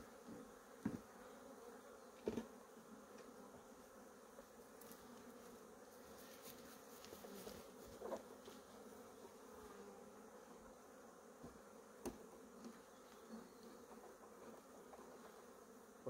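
Honey bees buzz steadily around a beehive, a faint continuous drone with a few closer insects passing by, and no one talks.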